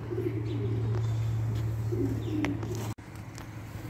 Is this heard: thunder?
no